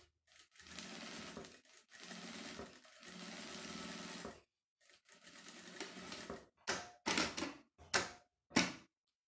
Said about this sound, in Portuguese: Agora eu vou bater uma costura aqui que é para prender todo mundo.